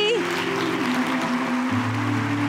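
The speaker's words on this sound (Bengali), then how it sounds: "হাততালি" Studio audience applause on a Bengali TV game show, a steady wash of clapping that fills the whole moment over a sustained musical tone.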